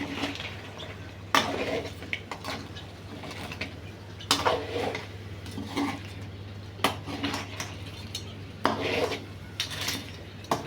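Crab curry pieces turned with a metal utensil in a pan, giving repeated loud scraping and clinking strokes at irregular intervals over a faint steady background hum, with no sizzle clearly standing out.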